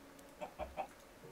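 Minecraft chicken clucking, three short quick clucks in a row, faint and brief over a quiet game background.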